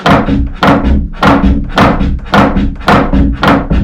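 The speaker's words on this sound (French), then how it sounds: "lors du fonctionnement du moulin, le bruit caractéristique d'un moulin" Heavy rhythmic thumping of old stone grain mill machinery with two millstones, a loud repeating knock about every half second, close and mechanical, with no talking.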